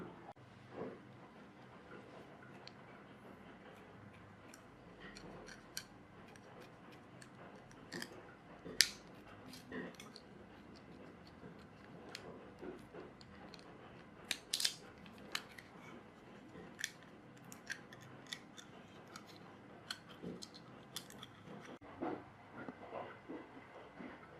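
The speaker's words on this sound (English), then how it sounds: "So I'll cut up some drinking straws now." Drinking straws snipped into short axle tubes with scissors for a rubber-band-powered toy build: a string of sharp, dry clicks and snaps, some close and crisp, spaced irregularly across a quiet room with no talking.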